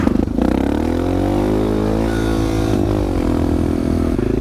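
A Suzuki DR650 enduro motorcycle pulls away after a short pause, its single-cylinder engine revving up loud and near, with a brief drop at a gear change near the three-second mark before the throttle opens again.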